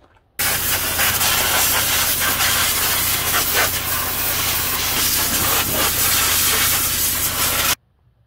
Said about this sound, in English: So now with compressed air, I'll blow all that stuff off real good